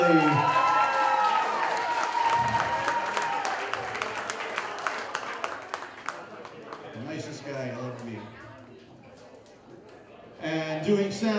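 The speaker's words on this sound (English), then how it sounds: "But let's give a big round of applause." A crowd at a school-of-rock style graduating seniors event applauds and cheers with shouts, the clapping fading midway as an announcer talks, then a short burst returns at the end.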